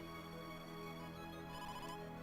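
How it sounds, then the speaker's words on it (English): Ringing bell in the Game Boy Advance game Yggdra Union, a sustained tonal chime ringing steadily and evenly, faint and alone without talk. "What's that ringing bell sound?"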